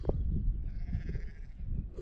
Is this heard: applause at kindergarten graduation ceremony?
no